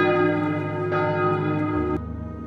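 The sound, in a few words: church bells ringing in Miltenberg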